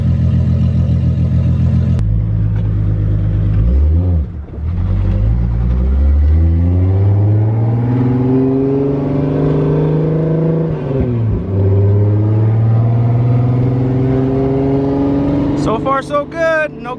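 The 555 hp 2JZ-powered Nissan 240SX (S13) runs after its differential replacement: a loud, close engine rising through smooth revs and gear changes, steady rumbling throughout, with voices talking over it.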